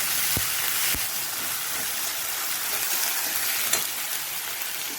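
Food fries in a pan during home cooking, giving off a steady, even hiss of sizzling oil with a couple of soft knocks, and no voices are heard.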